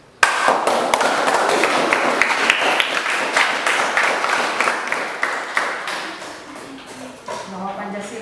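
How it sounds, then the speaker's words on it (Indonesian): Applause from a classroom audience follows a lesson on Pancasila, with steady dense clapping that holds for several seconds and then thins out toward the end as a voice starts speaking. "Ya, tepuk tangan untuk kalian semua."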